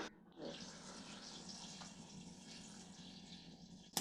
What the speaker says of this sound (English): In this town, there's a fountain with running water.